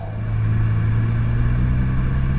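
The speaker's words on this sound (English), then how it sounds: "we are driving down the road in this 24 Bentley Continental GT Speed" 2024 Bentley Continental GT Speed driving on the road, heard as a steady low engine rumble and cabin drone that swells in the first half second and then holds even.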